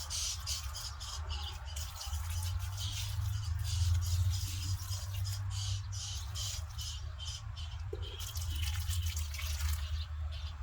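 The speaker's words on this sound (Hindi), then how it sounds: "मैं इसमें पानी डालती हूँ।" Water is poured into plant pots, a faint trickle with scattered drips and splashes over a low steady hum, quiet and close.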